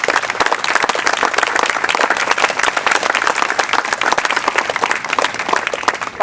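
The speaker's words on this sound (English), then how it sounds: "I just want to give a special round of applause to Yancho and the facilities committee." An outdoor groundbreaking ceremony crowd for a YMCA applauds, a loud sustained burst of many hands clapping that stays close and even throughout.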